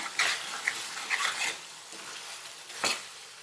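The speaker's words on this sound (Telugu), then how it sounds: "మనం నార్మల్ ఫ్రై చేసుకుంటున్నాము." Chicken frying in a pan over medium flame, a steady soft sizzle with a few sharp scrapes and stirs of a utensil against the pan, close and fairly quiet with no talk.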